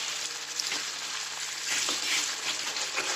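Mustard seeds sizzling and crackling in well-heated cooking oil, with a steady bright frying hiss and scattered small pops throughout, close and fairly loud with no voices.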